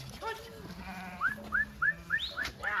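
Sheep and rams bleat repeatedly in quick succession, close by, while being washed and treated at a highland pasture, with a farmyard murmur and faint voices underneath.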